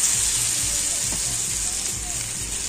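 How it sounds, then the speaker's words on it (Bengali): Batter sizzles steadily in a frying pan for a savory snack, a continuous hiss of frying heard close up with a faint voice in the background. "তো সম্পূর্ণ ব্যাটারটা কিন্তু ফ্রাই প্যানের মধ্যে আমি এইভাবে দিয়ে দিয়েছি।"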